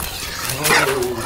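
A Ukrainian guard dog gives a short, close bark-like yelp with a whimpering edge, a single brief outburst over background noise.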